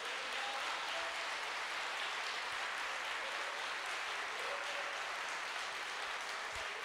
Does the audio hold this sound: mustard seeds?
no